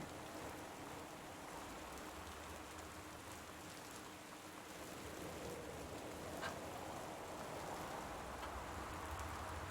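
Steady, even rain from the video game Gone Home falls continuously across the whole stretch, a dense hiss of drops on surfaces with no voices over it.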